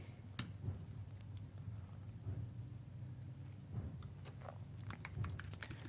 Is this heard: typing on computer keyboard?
yes